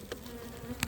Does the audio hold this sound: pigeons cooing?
no